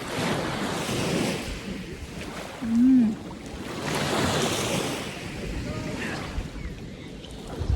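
Sea waves wash steadily onto a beach in loud, rolling surges mixed with wind buffeting the microphone, while people talk faintly nearby.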